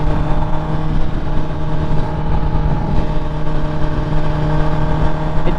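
A 2023 Kawasaki ZX-10R sport bike being ridden during its break-in period, its engine holding a loud, steady, close-up drone with a constant hum and no clear revving peaks, and no talking.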